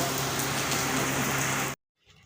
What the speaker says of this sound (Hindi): ये देखिए बारिश होने लगी है बहुत तेज़ से